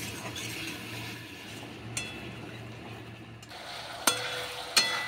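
Chickpea curry sautéing in a pan for lutchi and chhola, a steady low frying sizzle with soft stirring scrapes and a few sharp utensil clinks against the pan near the end.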